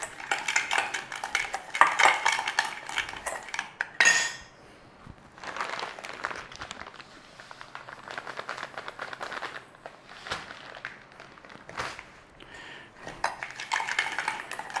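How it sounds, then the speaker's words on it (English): Sugar and cinnamon being stirred together in a bowl while making apple pie egg rolls: a steady run of light scraping and clinking of a utensil against the bowl, close and fairly loud, with short pauses and no talk. "we want a little bit of sugar in there. That'll do. And we want some cinnamon"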